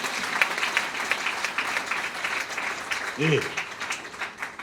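A church congregation applauds together after a large offering is announced, a dense wash of clapping hands with a brief voice rising over it partway through.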